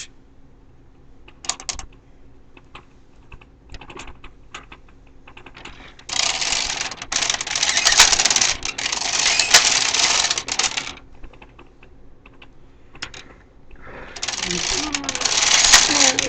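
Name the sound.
knitting machine carriage knitting rows of baby lace sleeve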